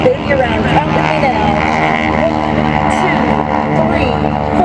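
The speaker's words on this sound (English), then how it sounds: "It's a snap roll, pure engine torque" An aerobatic plane's engine drones loud and steady through a snap roll at an airshow, the tone wavering as it twists, while an announcer talks over it continuously.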